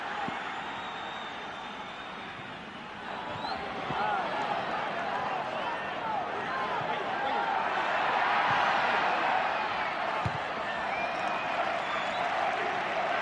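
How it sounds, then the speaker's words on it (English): Stadium crowd at a Real Zaragoza versus Espanyol football match, a broad sustained roar that swells into louder screaming partway through, with commentary spoken over it. "every challenge now will be received with screams from the crowd"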